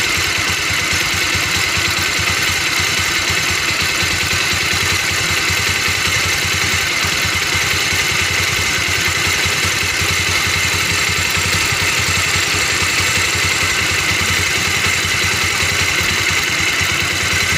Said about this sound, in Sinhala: එන්ජින් එක රේස් වෙන්නේ නැහැ.